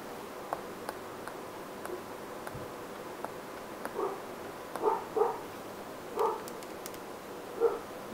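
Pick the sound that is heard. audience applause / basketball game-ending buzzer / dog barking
dog barking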